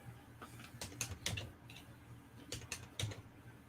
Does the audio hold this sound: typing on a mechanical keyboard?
yes